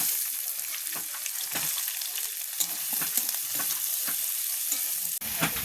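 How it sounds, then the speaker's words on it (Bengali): Chopped onion and green chilli fry in oil in a wok with a steady, crackling sizzle, punctuated by sharper pops and the scrape of stirring, close and continuous with no talking. "কড়াই তেল দিয়ে দিয়েছি আবার দিয়ে পেঁয়াজ কুচি আর লঙ্কা কুচিটা দিয়ে নেবো"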